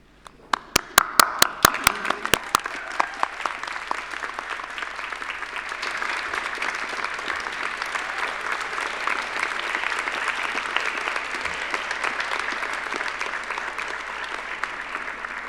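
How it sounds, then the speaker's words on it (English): Graduands at a Massey University graduation ceremony in Auckland applaud the faculty on stage and the audience behind them. A few sharp, separate claps quickly swell into steady, sustained applause from a large crowd that keeps going evenly throughout. "applaud those on the stage, turn around 180 degrees and applaud those behind you"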